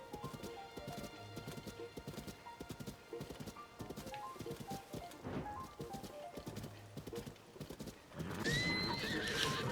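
A horse in The Legend of Zelda: Tears of the Kingdom trots with steady clip-clop hoofbeats, then gives a loud neigh near the end, with faint game ambience underneath and no talking.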